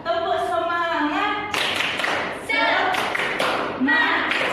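Schoolchildren in a classroom perform a rhythmic group clapping chant, sharp bursts of claps in a patterned sequence mixed with sung voices chanting along, close and lively.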